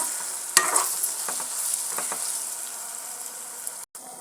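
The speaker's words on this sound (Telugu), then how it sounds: "ఇలా మధ్య మధ్యలో 2-3 సార్లు బాగా తిప్పుకొని ఉల్లిపాయ పచ్చివాసన పోయే వరకు బాగా మగ్గించుకోవాలి" Onions fry in a pan while being stirred, giving a steady bright sizzle with a few scraping stir strokes near the start, close and even throughout.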